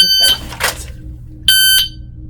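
Two short, sharp electronic beeps from a shooting timer about a second apart, high-pitched and loud, with a brief noisy sound between them.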